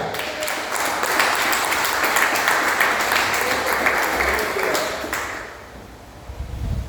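Church congregation clapping together for several seconds, a dense, steady patter of applause that tapers off near the end.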